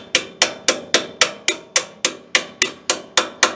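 A ratchet wrench gently taps a part during assembly of a Ninja 23, giving a steady series of eleven sharp, ringing metallic knocks, evenly spaced and close up, with no talking.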